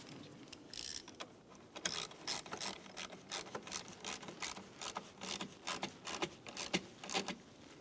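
A ratchet tightens the mounting nut on a 2004–2015 Nissan Titan fuse block, sounding as a close series of quick, rhythmic clicking bursts that repeat steadily for several seconds.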